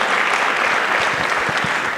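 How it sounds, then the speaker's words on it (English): A large audience claps in a full, even round of applause after a speaker's introduction at a motivational talk, loud, dense and sustained throughout. "Let's give Carlette a round of applause for a wonderful introduction."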